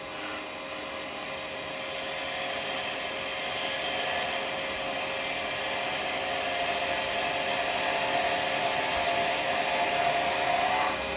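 A wood lathe spins a bowl blank while a roughing gouge rides on its bevel, giving a steady, even whirring hum that builds slightly in loudness, with no voices.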